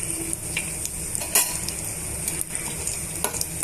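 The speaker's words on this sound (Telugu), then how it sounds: "తాలింపు గింజలు వేసుకోవాలండి వన్ టేబుల్ స్పూన్ ఆవాలు వేస్తున్నాను వన్ టేబుల్ స్పూన్ జీలకర్ర వన్ టేబుల్ స్పూన్ పచ్చినపప్పు" Mustard seeds, cumin and chana dal crackle and fry in a pan for tempering, a steady close sizzle with brief scraping stirs and small pops, no voices.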